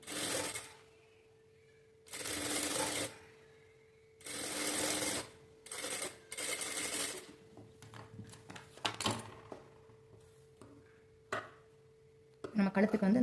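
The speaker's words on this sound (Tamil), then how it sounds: "இப்போ இந்த இடத்துல நீடியில் வச்சுட்டு அப்படியே வந்து நான் தைக்கிறேன்." A sewing machine stitches a blouse neck in several separate bursts of rapid whirring, each lasting about a second. The bursts are broken by quiet pauses and light handling clicks, and a steady faint tone sits underneath.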